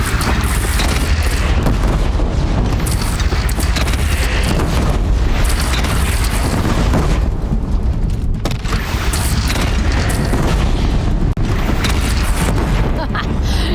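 Cannon fire in the video game Horizon Zero Dawn, with heavy booms in a dense, loud battle soundscape and shouted voices over them throughout.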